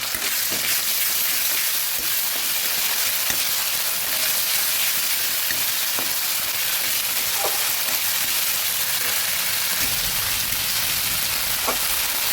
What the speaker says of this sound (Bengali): আদা রসুনকে সুন্দরভাবে ভেজে মিশিয়ে নেব